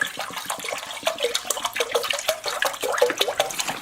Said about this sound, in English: And add the rest of the water.